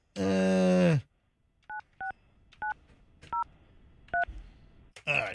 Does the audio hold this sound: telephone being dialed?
yes